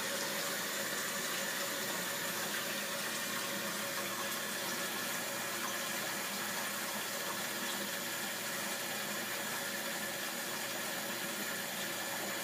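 Water runs steadily and loudly from a tap fed by a tankless electric water heater, an unbroken close rush of flow with no voices.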